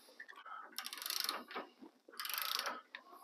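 Ratchet torquing down a bolt on a Squarebody truck's QA1 coilover conversion suspension bracket, rapid clicking pawl bursts in two quick spells with brief pauses, close and moderately loud, with a little background voice.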